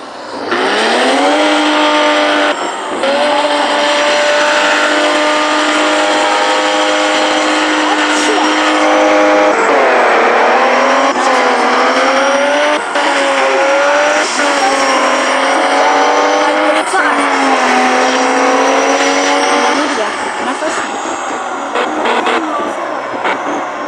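A Bugatti races in the video game Car Empire, its engine whining loudly and continuously with rising and falling revs as gears shift, with a voice talking over it.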